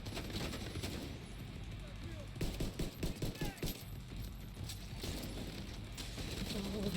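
Enemy gunfire in The Division 2, rapid bursts of automatic shots in a cluster near the middle, set over a steady loud game-ambience background.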